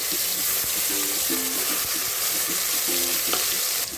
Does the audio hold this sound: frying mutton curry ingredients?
yes